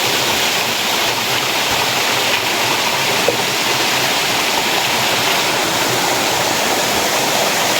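A waterfall in a deep forest pours a steady, loud roar of rushing water, constant and unbroken throughout with no voices.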